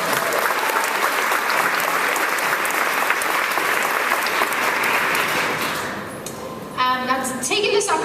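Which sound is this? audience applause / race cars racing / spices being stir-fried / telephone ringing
audience applause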